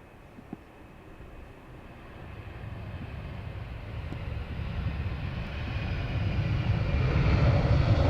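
A KLM airliner, flight 1140, at a rainy Dublin Airport gives a steady, distant jet engine roar that builds gradually louder over about eight seconds, with no talking.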